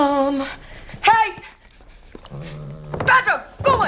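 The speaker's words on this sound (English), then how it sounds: "Bad dog! Go away!" A dog whimpers and pants in short bursts amid tense shouting, with loud harmonic yelps and breathy sounds close by, heard under and between agitated human voices.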